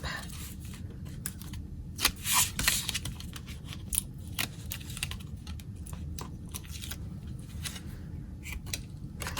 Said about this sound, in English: I'm going to remove the backing to the tear and tape.